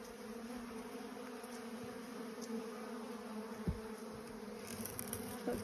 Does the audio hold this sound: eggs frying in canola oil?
no